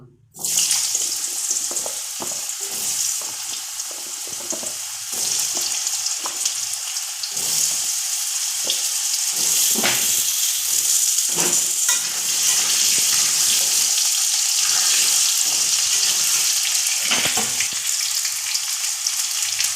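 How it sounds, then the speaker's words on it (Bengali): Potato pieces fry in hot oil that was just used for fish heads, giving a dense, steady sizzle close by throughout, broken by repeated scrapes and clinks of stirring. "প্রথমে আমি আলুগুলোকে ভাজা করে নেব।"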